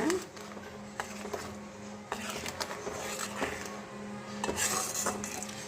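A long ladle stirs hot ginger candy syrup in a pot over a low flame, producing repeated metallic scrapes and clinks over a steady bubbling background at close range.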